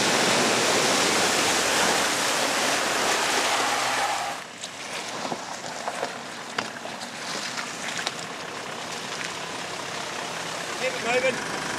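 A 4WD vehicle ploughs through a water ford in the Barossa, a loud rushing splash at first that drops off sharply partway, leaving engine noise and dripping water.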